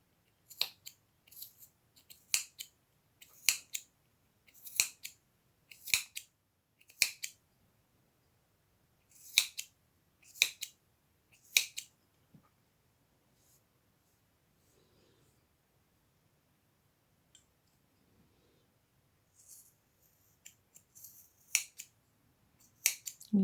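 Scissors snip through yarn while tassel strands are cut for crochet, a quick series of crisp, close cuts in irregular bursts, then a quiet pause before a few more snips near the end.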